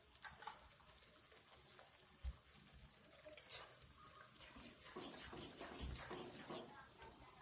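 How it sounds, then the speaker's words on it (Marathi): A spiced potato and pea mixture being stirred in a pan, soft irregular scraping and shuffling strokes that grow busier toward the end, quiet and close, with a few low knocks. "सगळं मग मिक्स करून घ्यायचं."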